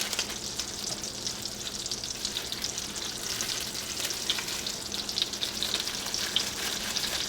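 Onions sizzle in melting butter in a pan, giving an even, bright frying hiss that carries on without a break, close and moderate in level, with no voices.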